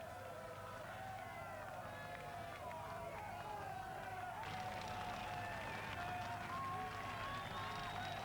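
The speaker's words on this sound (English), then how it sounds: "the cheering, the singing, the flag waving continues" A large crowd of Stoke City football fans cheers and sings together in a dense, continuous roar outside a pub, with voices rising and swelling midway through.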